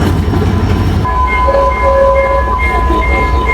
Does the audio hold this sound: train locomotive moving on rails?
yes